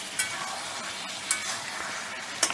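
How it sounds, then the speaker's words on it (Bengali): A spoon stirs Bengali mutton kosha seasoned with nutmeg in a sizzling pan, giving a soft, steady frying hiss broken by a few faint scraping knocks. "এবার আমি একটু নেড়ে নিচ্ছি মাঝে মধ্যে খেয়াল রাখতে হবে মাংস যাতে ধরে না যায়"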